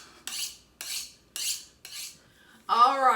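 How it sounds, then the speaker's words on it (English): A boning knife is drawn along a honing steel in four evenly spaced metallic swipes, each a bright scraping ring, followed by a louder, more resonant clang, close and alone without talk. "I am honing my boning knife"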